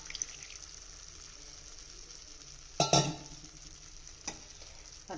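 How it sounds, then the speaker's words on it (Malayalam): Second coconut milk is poured into a simmering bilimbi curry, giving a soft steady bubbling and sizzle with a brief louder splash and stir partway through, close and without talk. "2ാം പാൽ ഒഴിച്ച് ഇച്ചിരി കൊടുക്കാം."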